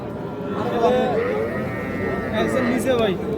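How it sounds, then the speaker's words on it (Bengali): Young bull and heifer calves low and moo at a crowded cattle market, their calls rising and falling over steady crowd chatter and nearby voices. "এটা ষাঁড় বাচ্চা, এটা বকন বাচ্চা।"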